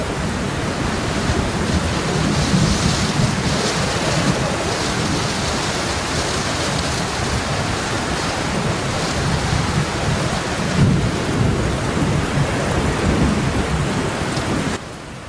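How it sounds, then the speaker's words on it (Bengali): Heavy cartoon rain pours down steadily and loudly, with deep rumbles of thunder rolling underneath throughout. "তখনই বলতে না বলতে বৃষ্টি চলে আসলো"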